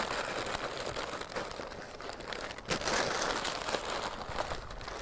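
Butcher paper crinkles and rustles loudly up close as it is pulled tight and tucked around beef ribs, a continuous papery crumple with sharper crackles midway.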